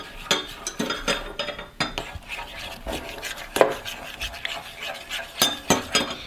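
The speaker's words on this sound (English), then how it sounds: "And then you're going to mix that into the slime." Clear slime being stirred and mixed after activator is added, giving soft wet rubbing and squelching with light scrapes and clinks of a utensil against a container, in repeated strokes close up.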